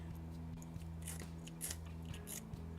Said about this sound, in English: I have an Ozark Trail magnesium fire starter with the striker, which is a little hacksaw blade, so you can scrape it and strike at the same time